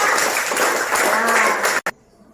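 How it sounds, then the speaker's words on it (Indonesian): A classroom of students applauds together, a dense burst of many hands clapping that holds steady for under two seconds and then cuts off abruptly into near quiet. "kita kasih aplaus ya"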